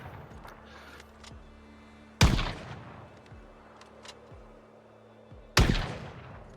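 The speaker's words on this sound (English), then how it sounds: "because I think the shooting sound is a little bit loud" Two sharp, loud hunting rifle gunshots with a scope fired in a survival video game, spaced a few seconds apart, each a sudden crack followed by a decaying tail over a low ambient game background.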